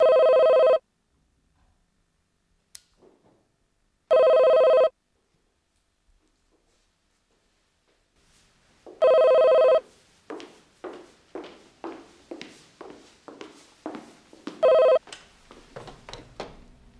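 Home telephone rings in three long electronic bursts separated by silence, followed by a run of rapid footsteps approaching; no one speaks.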